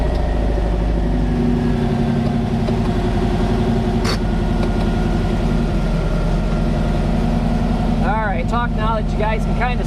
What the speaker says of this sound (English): Gotta kind of let the car idle here a little bit, cool down, just to help cool the turbo down a little bit